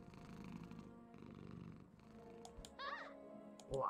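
A cat purring, close and quiet, in uneven rhythmic pulses, then a few higher chirping tones at the end.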